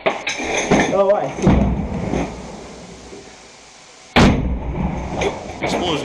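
An explosion in war footage from Ukraine: heavy booming impacts and a sudden loud blast near the end, with someone talking over the noise.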